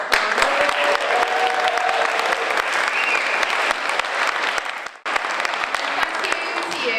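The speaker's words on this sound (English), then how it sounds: "Please round of applause." Dense, sustained clapping from a large audience at a poetry and music evening in the Drill Hall fills the room, briefly dipping before surging again and continuing steadily.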